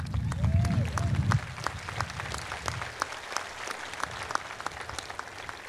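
Large crowd at a 2021 undergraduate and graduate commencement ceremony applauding in sustained, dense clapping that slowly thins, with a brief amplified voice at the start.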